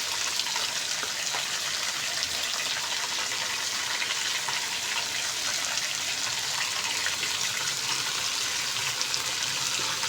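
Onion and chicken fry together with garlic ginger paste in a hot pan, giving off a steady, dense hiss and sizzle that stays even throughout with no talk.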